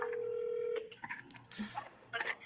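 A steady phone tone holds for under a second, then a short run of dialing beeps in quick bursts as a police department is called, with faint background noise between them.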